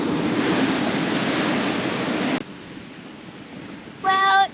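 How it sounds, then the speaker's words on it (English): Strong wind and rough surf roar steadily at Fingal Bay in Australia, loud broadband rush that cuts off abruptly and leaves a quieter, distant wash, with a brief tonal chirp at the end. "Well, it's really windy."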